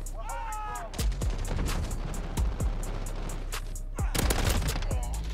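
Rapid bursts of gunfire from the Call of Duty Modern Warfare game, using the Striker 45 SMG, crack loudly in repeated volleys over a steady background hum, with a whistling tone near the start.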